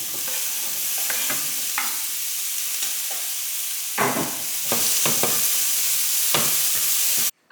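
Bell peppers frying in a pan for a tortilla, a loud steady sizzle with repeated scraping stirs and utensil knocks, close up and without talking, ending abruptly.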